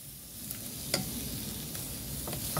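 Sautéed rice being stirred and moved in a pan for arroz caldo, a faint, close sizzle with soft scraping and a few light utensil clinks, no speech.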